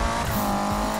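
A Mitsubishi Evo in Need for Speed drones with a steady, loud engine note, tires squealing briefly as the car runs at speed, close and unbroken with no talking.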